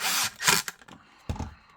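A drill bores into a Canik Rival pistol part in short bursts: two loud close whirring runs, then a quieter stretch and a final burst of grinding.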